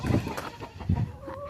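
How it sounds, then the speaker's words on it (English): Chickens clucking on a homestead farm near a coop door, two or three short bursts of clucks close by, with background rustling. "Then we got our chickens."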